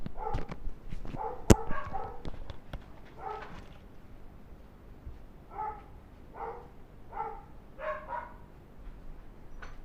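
Pet dogs bark indoors in a series of sharp, fairly close woofs and yips, a loud cluster at first, then further spaced barks that come in uneven bursts.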